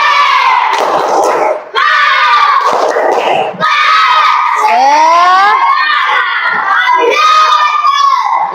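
A classroom of children performs the 'tepuk semangat' clapping chant, loud and energetic, with rhythmic group clapping and shouted chanting voices filling the room with only brief pauses between phrases.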